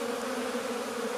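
Honeybees buzzing at a hive just brought out after wintering in a cellar, a dense steady droning hum from many insects, close and continuous, without talk.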